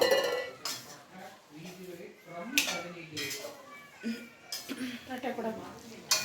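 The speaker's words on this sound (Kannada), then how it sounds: "ತಟ್ಟೆ ಈಗ ಅಮ್ಮ ಪ್ಲೇಟಾಗ ಹಾಕ್ತಾ ಇದ್ದಾರೆ ನೂಡಲ್ಸ್ನ" Maggi noodles with vegetables are served from a pan onto a plate, with repeated clinks and scrapes of metal utensil on dishware under a nearby speaking voice.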